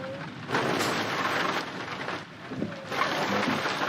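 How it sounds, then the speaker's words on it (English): Rain in Euro Truck Simulator 2 falling during a truck drive, a dense broadband patter that surges in waves with brief dips, loud and continuous with no talking. "Where's the rain even coming from?"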